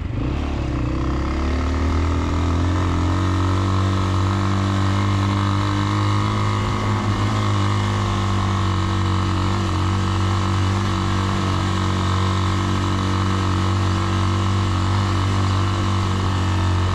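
A motorcycle rides through the streets of Medellín, its engine droning steadily and loudly throughout with a low, constant rumble and no clear revving peaks.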